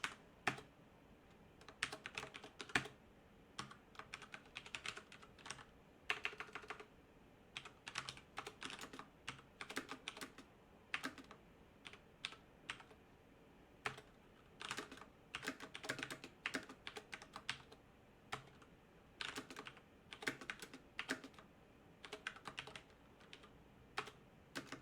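Rapid computer keyboard typing while writing code, bursts of close, crisp key clicks with short pauses, steady and moderately loud throughout with no voices.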